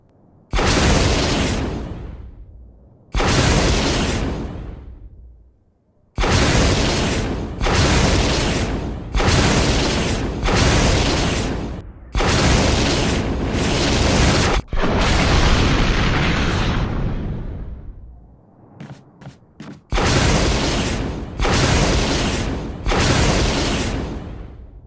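Rocket launcher blasts from Resident Evil Remastered: a run of about eight heavy, booming explosions, each with a long decaying rumble, plus one longer sustained roar, loud and close with no talking.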